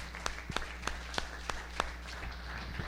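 Faint, sparse claps ring out in a church service as a small congregation applauds King Jesus, a few distinct claps spaced roughly every third of a second.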